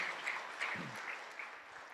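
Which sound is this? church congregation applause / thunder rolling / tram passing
church congregation applause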